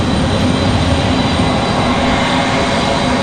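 A Delta airliner taxis onto the tarmac at Raleigh-Durham International Airport, heard as a loud, continuous broadband engine roar with a steady rumble and no pauses.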